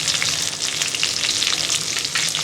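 Tomatoes, cumin and coriander powder fry loudly in a pan, with a dense continuous sizzle and soft stirring scrapes throughout.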